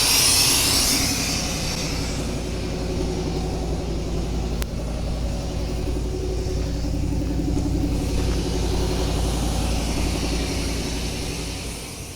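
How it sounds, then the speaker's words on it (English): A 1987 Chevy R10 pickup engine runs steadily at a raised idle, a close, continuous low rumble with a faint metallic whine and no voices. "We got it running, although the idle seems a bit high."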